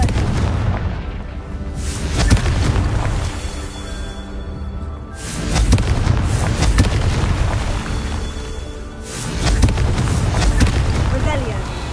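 Repeated Confringo blasting-spell explosions in a Harry Potter video game on PS4, a series of loud booming blasts roughly every few seconds with rumbling tails, and a voice calling out spell names between them.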